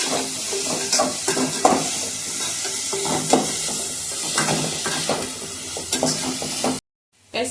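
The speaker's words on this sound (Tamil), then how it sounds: "தக்காளி வெங்காயம் எல்லாமே நல்லா வதங்கட்டும்." Tomatoes and onions sauté in a pan for a spicy chicken gravy, giving a steady dense sizzle broken by repeated scraping stirs of a spoon against the pan, then a brief cut to silence near the end.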